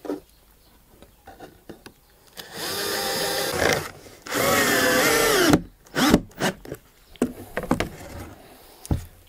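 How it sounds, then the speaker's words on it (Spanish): Power drill countersinking screw holes in wooden boards while building the base of an insect hotel, two sustained whirring bursts of a few seconds each followed by short clicks and knocks of handling. "vamos a avellanar un poco todos para que el tornillo nos entre un poquito"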